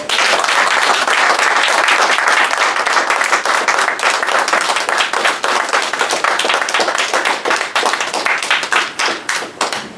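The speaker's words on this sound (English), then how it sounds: "student minister, LaDios Muhammad, with a round of applause?" Loud, dense clapping from a crowd, sustained throughout and becoming more distinct and rhythmic near the end.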